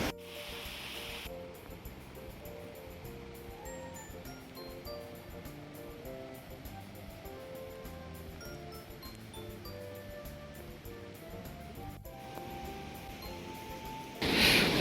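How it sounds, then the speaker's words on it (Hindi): A waterfall beside the trail on the Pindari Glacier trek in the Himalayas, a steady broadband rush of falling water that holds evenly throughout, mixed with tonal background music and a brief louder burst near the end. "देखिए यहाँ पर एक झरना है"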